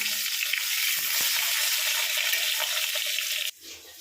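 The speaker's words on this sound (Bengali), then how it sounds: "লম্বা লম্বা করে কেটে রাখা পটল এটাকে এবার লাল লাল করে ভেজে নেব" Strips of pointed gourd sizzle steadily in hot oil in the same pan just used for fish, a dense, loud, continuous frying hiss that stops abruptly near the end, followed by quieter kitchen sounds.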